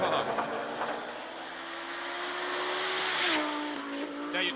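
Audi S2 rally car at the 1994 Rally Baie des Chaleurs taking a corner, its engine note holding steady then dropping as it shifts, with a faint tire scrub, heard from a moderate distance.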